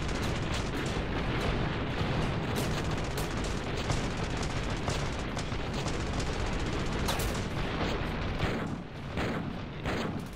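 A Doom-style weapon in the shooter Ravenfield fires continuously, heavy booming shots and explosions stacking into a loud, dense barrage that thins slightly near the end, with no talk over it.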